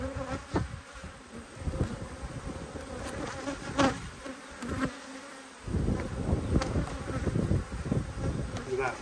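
Italian honey bees buzzing around an open backyard hive, a dense, continuous close drone of many insects, louder in the second half, with brief knocks and handling sounds from the beekeeper.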